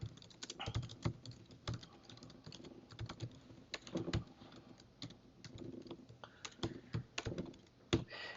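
Commands are typed on a computer keyboard in a quick, uneven run of crisp clicking keystrokes, with occasional heavier taps, close and clear without speech.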